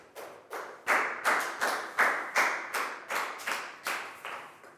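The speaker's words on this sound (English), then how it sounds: "a big round of applause" Classroom of pupils applauding a classmate during a Year 4 English lesson, heard as a series of distinct, fairly close bursts of clapping, each starting sharply and fading, repeating about every half second with no talking.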